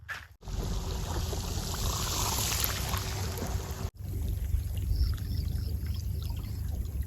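Irrigation water gushing steadily from a pipe into a farm field, a loud continuous rushing and pouring with two brief cut-offs.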